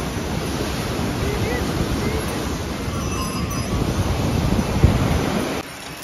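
A river at Kedarnath, where the flood came through, rushes in a loud, steady roar of broadband water noise mixed with wind buffeting the microphone, holding constant before dropping slightly at the end.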